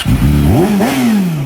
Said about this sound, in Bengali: বাইকের সাউন্ডটা জাস্ট শুনো, দেখো কি জোস